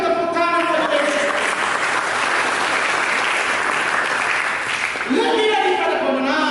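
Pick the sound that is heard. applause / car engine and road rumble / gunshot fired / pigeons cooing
applause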